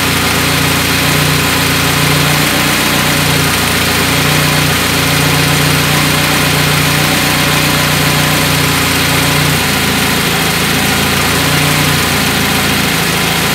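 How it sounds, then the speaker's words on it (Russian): A carbureted car engine running on LPG idles steadily and loudly up close, its rhythm wavering and the revs sagging near the end as the gas mixture screw is turned in, with no talking. "Оп, вот они начали тухнуть"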